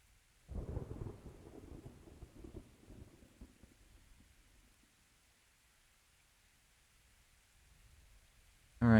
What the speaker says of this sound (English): They're all miserable during the rain. It's against the storm.